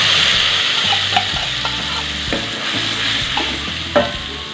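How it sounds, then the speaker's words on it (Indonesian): Blended spice paste sizzles in a pan as it is sautéed, a continuous close frying hiss broken by the soft scrapes and taps of stirring. "Kita tumis bumbunya sampai matang."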